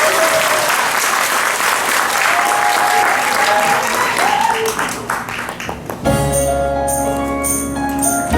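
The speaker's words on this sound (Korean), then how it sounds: "다들 큰 박수 부탁드립니다." Audience at a peace gathering marking 69 years since the armistice applauds loudly and continuously for about six seconds, dense crowd clapping with a few voices, then music begins.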